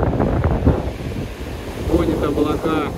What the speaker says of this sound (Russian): Дует ветер,